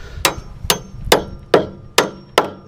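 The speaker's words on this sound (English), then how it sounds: "Put the nail in on an angle like that" A hammer drives a nail at an angle through a metal joist hanger into a wooden floor joist for a tiny house, giving six sharp, ringing metallic strikes at a steady rhythm, close and loud, with no talking.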